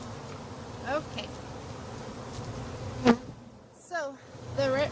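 Honeybees buzz steadily while being shaken into a Langstroth hive, with individual bees droning close past in rising and falling whines over a dense outdoor hum.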